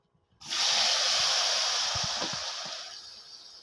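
Jujube and tomato hit hot oil in a pan and burst into a loud, sudden hiss at once, then settle into a steady close sizzle that fades slightly over a few seconds, with faint background clatter.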